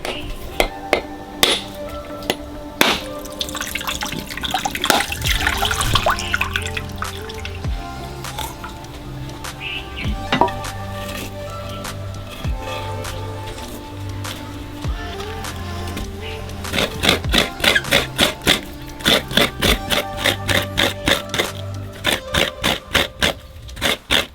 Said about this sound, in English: And now he's gonna crack open this coconut here.